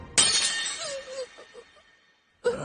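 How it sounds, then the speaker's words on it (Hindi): A sword breaking against a demon's neck in the anime Demon Slayer: a sharp, bright shattering crack that rings off and fades into near silence, then a second sudden burst just before the end. "तलवार टूट गई, तलवार टूट गई।"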